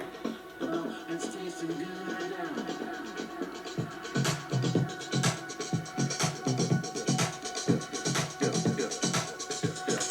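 An electronic music passage with layered tones and sharp rhythmic hits, building steadily with a driving pulse and scratchy textures.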